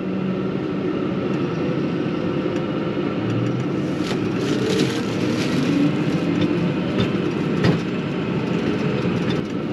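A brand-new Fendt 1050 tractor driving forward across a field, a steady low engine drone and rumble with light rattles and clunks, close and continuous.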